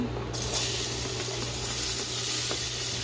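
Jamaican-style curry sizzles steadily in a pot before crab goes in, a constant close frying hiss with a few small clicks and stirring sounds.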